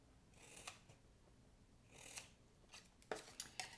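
Scissors snipping while making a fishing lure box, quiet close crisp cuts: a few spaced snips, then a quick run of three or four near the end.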